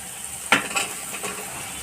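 Washed potatoes drop into a pan of frying clams, setting off a sharp, brief burst of sizzling that quickly settles into a soft, steady hiss.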